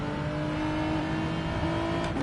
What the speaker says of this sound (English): you can just hear the tyres chattering because there's just